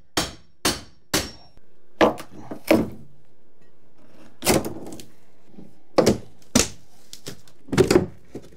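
Old wooden closet framing is pried and knocked apart, with about a dozen sharp hammer strikes and woody thunks that come in uneven clusters, close and loud, with short quiet gaps between them.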